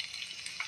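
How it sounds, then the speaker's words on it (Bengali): Sliced okra fries in oil with onion and chili, a short burst of crackling high-pitched sizzle, fairly quiet and close, no voices. "ঢেঁড়সগুলো দিয়ে দিলাম। পরিমাণ মতো তেল দিয়ে দিলাম।"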